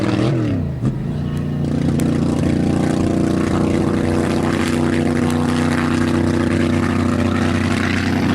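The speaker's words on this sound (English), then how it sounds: "Turbo Camaro making a pass." A turbocharged Camaro on a one-mile top-speed run at the Ohio Mile drag strip roars steadily close by, its engine drone loud and sustained throughout the whole pass, with an audible gear shift near the start.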